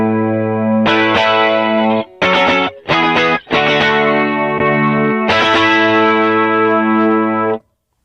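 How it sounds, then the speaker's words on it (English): An electric guitar run through a Mobius pedal set to a wet, dramatic 80s-style chorus: a long shimmering chord, a few short choppy stabs, then another sustained wavering chord that cuts off cleanly. Loud and close, no voices. "One of my most used sounds is this chorus."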